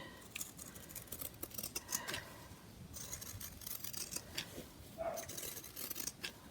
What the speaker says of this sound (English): you can just use normal scissors to cut this out.